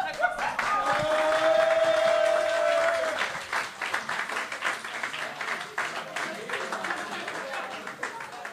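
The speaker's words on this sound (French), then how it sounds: "Est-ce qu'on peut l'applaudir très fort?" An event audience breaks into loud, sustained applause, with a crowd cheering and a whistle-like tone early on, then the clapping thins gradually but keeps going.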